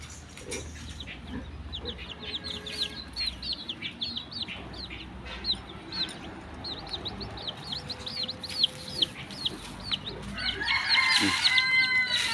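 Chickens cluck and chirp steadily nearby in a busy yard, a dense chorus of short repeated calls with a louder flurry near the end.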